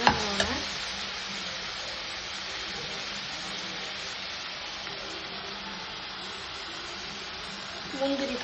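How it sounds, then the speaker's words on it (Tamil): Tomatoes softening in a pan after onions have browned, giving a steady, even sizzle and hiss that runs throughout at moderate level, with a couple of faint knocks near the start and end. "தக்காளி கொஞ்சம் வதங்கணும்."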